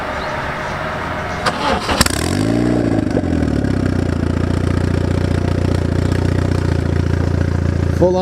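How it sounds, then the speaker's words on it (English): A full-on Honda race car engine cranks and catches, revs up briefly, then settles into a loud, close, steady idle with a lumpy low throb. "Full-on race car, Honda."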